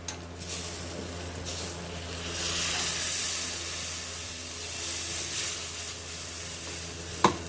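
Hot oil in a pan sizzles and hisses steadily as water goes in for a capsicum fish curry (macher jhol), swelling into a louder, steamy sizzle midway and holding, with a sharp clink near the end.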